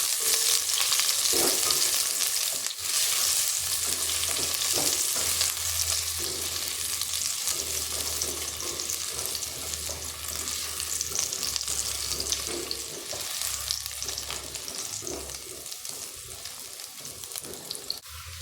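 Chicken frying in a pan with ginger until golden brown, a steady loud sizzle running throughout with occasional stirring scrapes, no voices.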